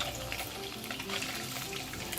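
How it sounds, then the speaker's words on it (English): Cooking oil heating in a wok or frying pan on a stove over medium heat, giving a steady, close crackling sizzle that runs unbroken throughout with no talk. "pour 3 tablespoons of cooking oil into a wok or frying pan that is on the stove on medium heat"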